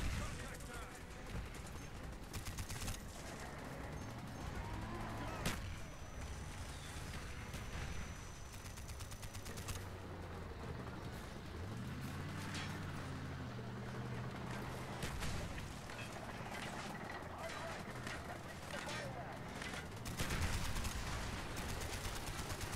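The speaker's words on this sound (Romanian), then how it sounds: "S-a încins mitraliera" Machine gun fire in Call of Duty: Black Ops, with bursts of rapid gunfire, scattered explosions and battle noise throughout, and someone talking over it.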